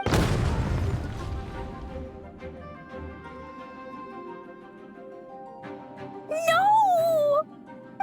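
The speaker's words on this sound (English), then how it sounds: "Explosions can hurt people." A heavy explosion in a video game cutscene, a loud booming burst at the start that fades into a long ringing tail, followed by a brief high wavering effect near the end.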